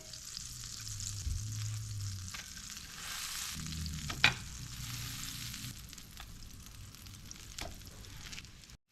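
Homemade black bean burgers frying in a pan, a soft continuous sizzle with an occasional spatula knock and light scraping, fairly quiet throughout.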